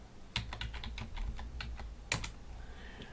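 Keys clatter on a computer keyboard while entering a spreadsheet formula in LibreOffice, a rapid run of close, crisp clicks with a louder burst near the end and no talking.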